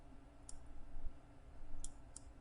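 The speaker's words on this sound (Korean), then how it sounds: "더블 클릭." Quiet computer mouse clicks in a still room: one lone click, then a quick pair forming a double-click near the end, with soft background hiss and no talking.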